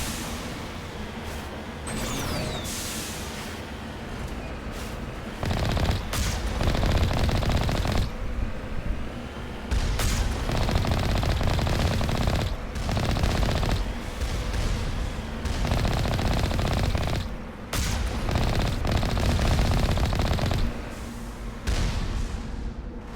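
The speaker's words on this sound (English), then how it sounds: "Oh, we have some turrets." Sustained rapid turret gunfire in the video game Mass Effect: Legendary Edition, loud and dense bursts of machine-gun fire with heavy impacts, repeating almost continuously with brief lulls between volleys.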